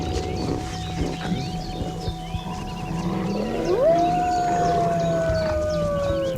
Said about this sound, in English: So wolves are specialists at making sounds and listening.